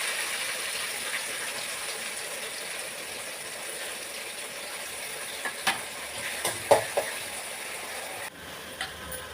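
Onion and green chilli fry in oil with crackled fennel seeds for vadacurry, a soft, even sizzle with a few clicks of a utensil near the end and no voices.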